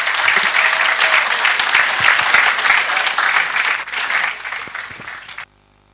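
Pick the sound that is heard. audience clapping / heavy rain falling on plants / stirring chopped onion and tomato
audience clapping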